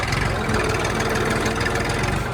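A Massey 1035 DI 35 HP tractor engine labours while pulling a 16-disc harrow in a field, a steady dense rumble with a rapid knocking pulse, loud and close throughout with no talk.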